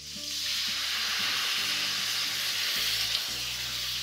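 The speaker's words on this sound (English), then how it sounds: "we'll add a little bit of wine just to deglaze everything." Wine hits a hot pan of sausage ragù and sets off a loud, steady sizzle and hiss, with low stirring and scraping underneath throughout.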